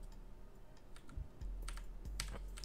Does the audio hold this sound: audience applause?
no